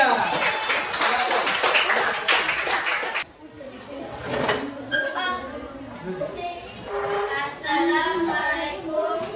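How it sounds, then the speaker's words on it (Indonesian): Audience applause for group 3 at an academic supervision coaching session, a dense clapping burst for about three seconds, then people speaking and murmuring in the room. "Tepuk tangan dulu untuk kelompok 3."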